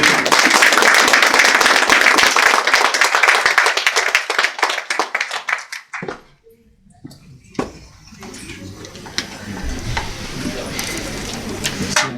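A congregation at a Saturday night wake claps loudly and densely in acclaim after a prayer, a sustained burst that fades out around halfway, followed by quieter room noise and some voices.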